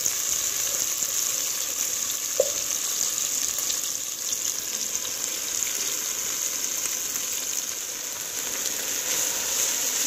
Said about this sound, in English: And then I'm going to add the collards, because that is the hardest to cook.